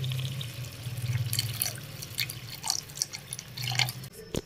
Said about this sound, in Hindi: और इसमें थोड़ा सा पानी शामिल करेंगे ताकि आलू अच्छे से गल जाएं।